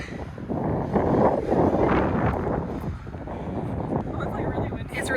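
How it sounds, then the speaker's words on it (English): Steady wind on a golf course buffeting the microphone with gusty low rumble, sustained throughout, with faint voices underneath. "It's really windy."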